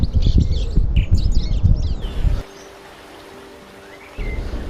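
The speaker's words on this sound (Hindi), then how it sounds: "जो आवाज़ें सुनाई देती है वो है पक्षियों की आवाज़ें" Birds chirping and singing outdoors in the Balh valley, a lively burst of bright calls over low rumbling water or wind, then quieting to a faint steady murmur of flowing water.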